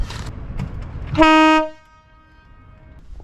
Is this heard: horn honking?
yes